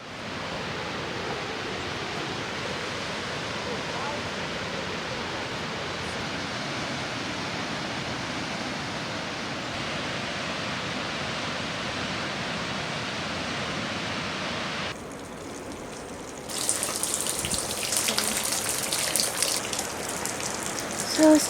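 A waterfall along a rough trail roars as a constant dense rush, steady and fairly loud, with brighter clattering noise near the end.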